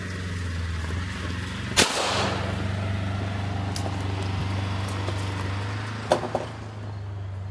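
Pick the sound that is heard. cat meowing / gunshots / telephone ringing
gunshots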